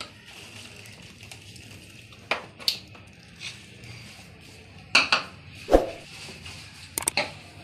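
Capsicum and cabbage tipped into a cooking pot for chicken vegetable rice, a few separate clattering knocks and scrapes against a quiet background.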